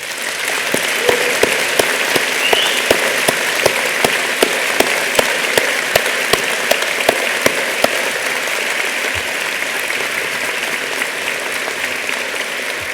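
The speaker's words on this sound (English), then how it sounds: "round of applause." A graduation ceremony audience gives a warm, sustained round of applause, dense and even clapping that holds steady throughout with a few sharper claps standing out near the front.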